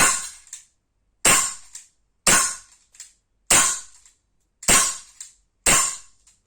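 Tokarev Borner TT-X 4.5mm BB air pistol firing six sharp, loud snapping shots at steady intervals of about a second, each crack decaying quickly into silence.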